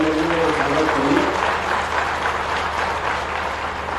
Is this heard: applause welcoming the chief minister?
yes